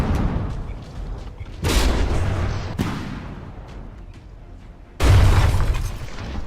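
Naval gunfire and shell impacts in the From the Depths ship-combat game as a Kolibri frigate's secondary guns hit the Loathing, heavy booming blasts with decaying rumbles, three loud hits over a few seconds.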